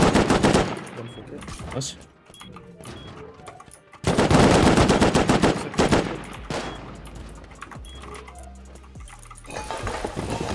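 Automatic and rapid gunfire from a Rust online survival game battle crackles in dense close bursts with brief lulls, while a voice speaks briefly over it.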